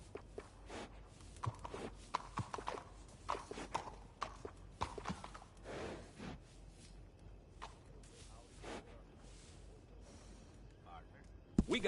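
Soft hoof clops and scattered footsteps sound intermittently, with occasional snorts and breaths, fairly quiet and close, from horses in Red Dead Redemption 2.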